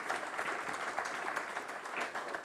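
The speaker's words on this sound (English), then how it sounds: "Let's have a huge round of applause" Audience at a maritime regional summit applauds a panel discussion, a steady, even wash of many hands clapping at moderate distance, fairly faint and continuous throughout without any speech.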